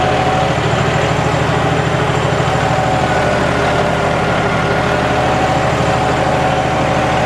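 A John Deere 5210 4WD tractor engine labours under load as its RPM drops, giving a loud, steady low diesel drone with a fast rhythmic pulse throughout.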